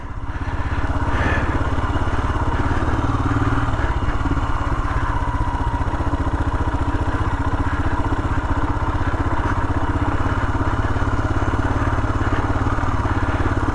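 Royal Enfield Himalayan motorcycle riding on an icy winter road, its single-cylinder engine droning steadily and loud throughout with a constant rumbling, close-up exhaust note and no talking.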